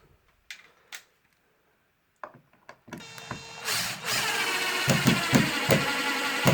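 Screw driven into an interior door hinge with a power drill: a few scattered taps and clicks, then the drill whirs up and grinds steadily with bursts as the screw bites, close and loud, no talk.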